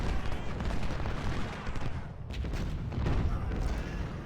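Distant artillery booms and rolling gunfire from an Ultimate General: Civil War battle form a dense, continuous crackle of overlapping reports, fairly quiet and steady throughout.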